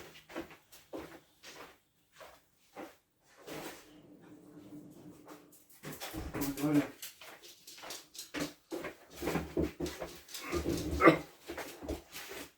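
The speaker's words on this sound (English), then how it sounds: "I've just got to let the other dog back in before she starts barking." A dog whimpers and gives short barks nearby in a quiet room, with scattered thumps and shuffling noises between the sounds.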